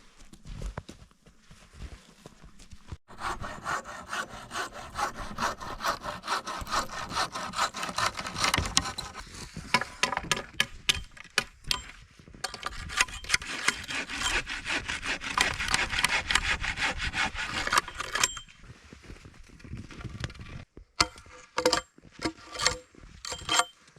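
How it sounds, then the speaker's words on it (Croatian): Steady back-and-forth rasp of a hand saw cutting firewood outdoors in a forest at -7°C, strokes repeating in a fast rhythm, close and fairly loud, with brief pauses near the end. "Vuki ima bolju pilu, pa Vuki reže drva"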